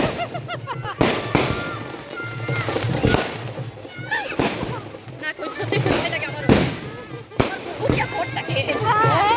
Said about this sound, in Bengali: বিয়ে বলে কথা, বাজি তো একটু ফাটবেই।